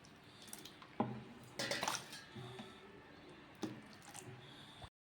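A ladle swishes and clinks through runny ragi dosa batter in a bowl, with wet sloshing strokes and a few scrapes, fairly quiet and close.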